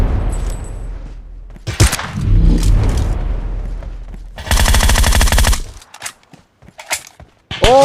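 Gunfire in PUBG, a loud close sniper shot followed by bursts of rapid automatic fire and sharp single reports, with quiet gaps between them.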